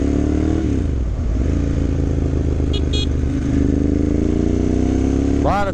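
A 2009 Ducati Monster M1100 V-twin motorcycle engine runs close by, a steady, loud, throbbing idle with rising and falling revs, occasional light clatter, and a quick rev near the end.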